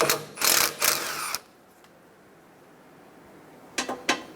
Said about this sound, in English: There's one 10mm bolt holding this line to the condenser. Remove that.